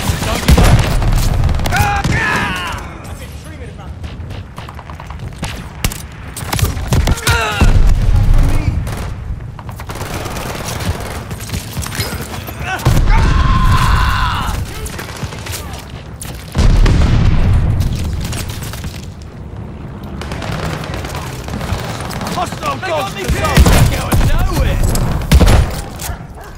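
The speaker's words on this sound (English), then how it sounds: "I'm being shot!" Gunfire and booming blasts from an online Call of Duty: Vanguard match, with a player under fire and sticky bombs landing; loud, dense bursts and heavy thuds recur throughout, with voices heard among them.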